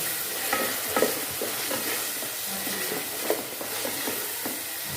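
Minced beef and yogurt sauté in a pan with a soft, steady sizzle, broken by a few scraping stirs of a spoon, close and quiet, with no talking.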